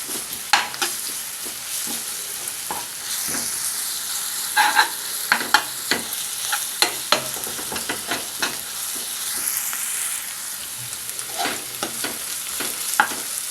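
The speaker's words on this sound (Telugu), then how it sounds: "ఇప్పుడు దీనిలో ఒక స్పూన్ అల్లం వెల్లుల్లి పేస్ట్ వేసి పచ్చివాసన పోయేంత వరకు వేయించుకుందాం." Onions fry with a spoonful of ginger garlic paste for mutton keema, a constant soft sizzle broken by frequent scraping stirs of a spoon against the pan, close up with no voices.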